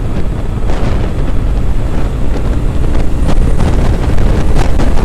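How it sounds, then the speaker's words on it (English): Loud wind buffets the microphone while riding a Triumph Thruxton motorcycle on the road, a constant heavy roar and rumble that swells slightly toward the end, with no talking. "You can really feel the wind on you though."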